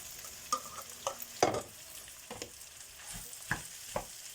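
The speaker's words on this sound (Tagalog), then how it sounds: "Lagay na natin to guys at simulan na natin ang pagprito-prito." Rice frying for fried rice sizzles in a pan while a spatula stirs and scrapes it, giving irregular knocks and clatters over a soft, continuous frying hiss.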